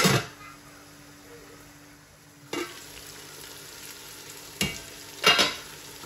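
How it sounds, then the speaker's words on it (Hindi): A spoon scraping and stirring lamb pulao in a pot, with a low sizzle underneath and a few sharp clinks against the pot, close and fairly quiet. "अब हम इसको मिक्स करेंगे"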